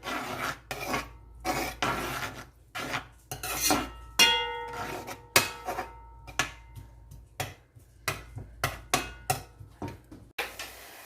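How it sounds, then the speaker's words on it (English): Onions stir-fried in a pan for Spanish rice with lamb, heard as repeated scraping and rasping strokes of a utensil against the pan, with a brief ringing clank partway through, close and fairly loud with no talk. "And we're going to stir fry this"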